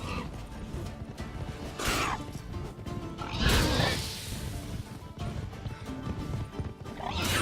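In The Witcher 3 video game, a horse whinnies and hooves clip-clop under busy game audio. The neighs rise in a few prominent bursts against steady background sound.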